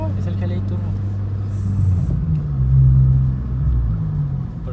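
A 2.0 turbo GLI car fitted with nitrous oxide rumbles low and steady at close range, swelling slightly midway, while people talk over the engine.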